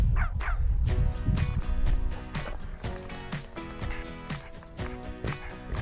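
A French bulldog barks and yips in a run of short, close, fairly loud bursts over background music, with a few whimpering notes and no talking.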